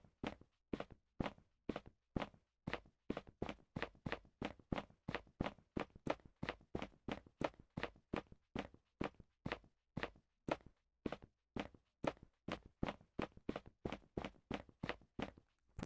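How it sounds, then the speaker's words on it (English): Footsteps in a video game level play in a long, steady series of crisp, evenly spaced steps, walking pace mixed with quicker running strides, clean and close with silence between impacts. "So now that we have run and walk footstep sounds"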